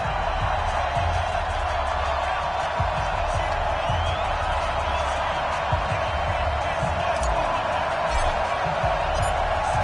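Stadium crowd noise from an American football video game, Redskins hosting the Los Angeles Rams at FedEx Field before kickoff: a steady, dense roar of a sold-out crowd with constant cheering throughout, continuous and loud.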